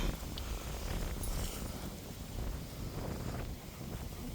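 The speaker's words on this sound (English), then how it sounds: "It's very windy." Strong wind blows outdoors on a farm in drizzly weather, a steady, loud roar buffeting the microphone throughout with no break.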